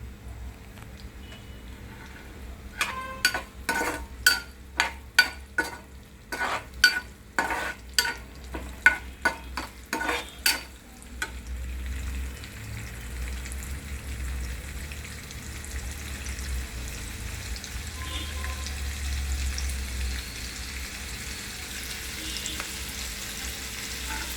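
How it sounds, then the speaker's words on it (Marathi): Chopped onion frying in a spoonful of oil for dill leaf sabzi, opening with a run of sharp rhythmic scraping strokes of a spoon against the pan, then settling into a soft, steady sizzle. "मी कांदा टाकलेला आहे आणि त्यामध्ये एक चमचा तेल टाकलेलं आहे आता कांदा हा पूर्ण भाजून घ्यायचा आहे आपल्याला"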